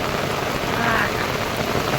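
Heavy rain pours down in Dindoli, Surat, as a dense, steady hiss of falling water, loud and continuous over a short stretch.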